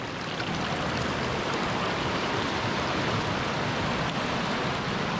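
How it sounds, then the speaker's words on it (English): Steady rushing and splashing of a small waterfall falling into a rock pool in Edzell, Scotland, a continuous broadband wash without pauses, moderately close. "a little rock pool with a waterfall."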